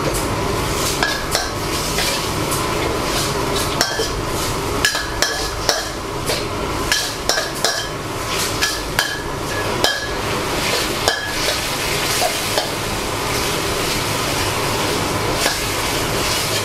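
Sliced ginger stir-fried in a reduced sauce in a pan, with repeated metal clinks and scrapes of a spatula against the pan in an uneven rhythm over a constant low sizzle, close and steady.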